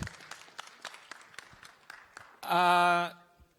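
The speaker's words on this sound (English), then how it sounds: "Let's give them a warm round of applause, really. Let's clap for them for the good work." Scattered, fairly quiet hand claps from an audience at an event at the Kigali Convention Center, followed by a short, loud sustained tonal sound before it quiets.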